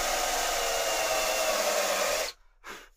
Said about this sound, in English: we want to just countersink the top plate here